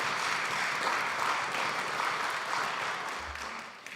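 An audience applauding performers at an afternoon arts celebration, an even wash of many hands clapping for about four seconds before tapering slightly.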